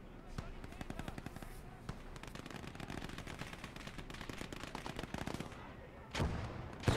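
Submachine gun fire rattles in the Gates of Hell Ostfront video game on the Kalinin map, dense rapid bursts and crackling shots filling the clip, with a louder blast near the end.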